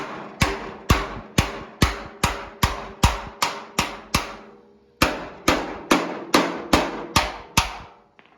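Hammer blows on the buckled bed floor of a Studebaker truck, about sixteen sharp, ringing metallic strikes in a steady rhythm with a short pause midway, loud and close with no talk.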